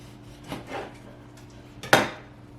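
A knife cuts washed raw chicken into chunks for raw-pack pressure canning, giving a few soft close-up cuts and one sharper knock against the board near the end.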